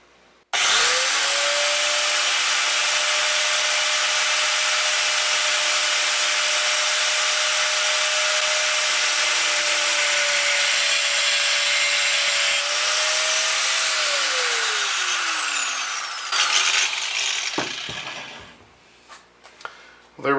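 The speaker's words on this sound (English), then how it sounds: "cutting wheel, see if we can't cut this very clean and straight" Abrasive cutting wheel on a power tool slicing through a rifle handguard, a loud sustained high-pitched whine for about fifteen seconds that dips in pitch under load, then winds down to clatter.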